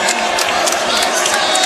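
Basketball arena crowd loudly protesting to the officials after an uncalled elbow to the chin, a dense roar of shouts and jeers with scattered whistles and claps filling every moment.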